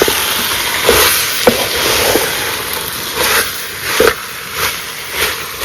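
A spoon stirs Malvani masala frying in oil in a traditional village kitchen: a steady loud sizzle and hiss broken by irregular scraping strokes against the pot, with no talking.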